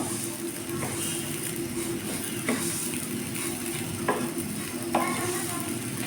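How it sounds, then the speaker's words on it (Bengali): Rice for beef tehari fries in a pot, giving a steady close sizzle broken by a few scraping stirs of a spoon against the metal. "আমি চালটা ভালোভাবে ভেজে নিব।"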